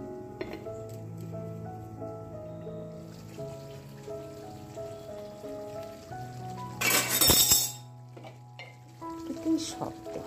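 Chicken kosa frying in a pan sizzles under steady tonal background sounds, with occasional clinks and one loud, spattering burst of sizzle near the middle.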